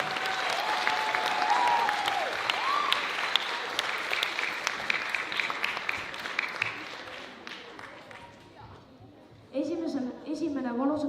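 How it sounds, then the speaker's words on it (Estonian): A school playback show audience claps for the first-grade group's performance, dense applause with cheers for about nine seconds, then dying away as a presenter's voice and music come in near the end. "Aplaus esimene klass!"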